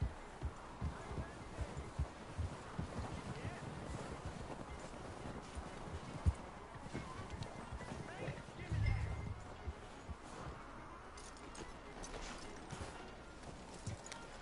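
Horse hooves clip-clop steadily in Red Dead Redemption 2 as a horse is brought in and hitched, moderately loud beneath ambient game sound with a voice talking over it.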